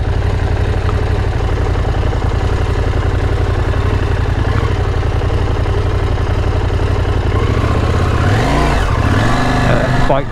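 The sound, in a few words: KTM 790 Adventure motorcycle riding off-road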